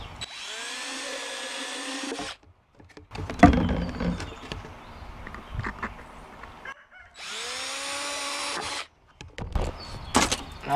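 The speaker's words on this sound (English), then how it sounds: "I'm just going to drill about 1/8 inch hole in the top of this." Power drill boring a 1/8 inch hole in a plastic lid while making wax moth traps: two loud whirring bursts of the motor with handling clatter and knocks between them.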